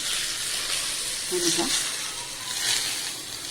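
Hot oil poured over spice masala for a green chilli pickle, giving a steady bright sizzle that stays even and close throughout, with a brief stirring scrape in the middle.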